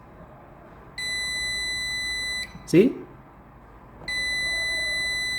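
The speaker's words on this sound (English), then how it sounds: "You can put it even on beeping continuity test." Continuity beeps from a multimeter probing the terminals of a car relay: two long steady electronic tones, one early and one at the end, with a brief spoken word and a rustle between them.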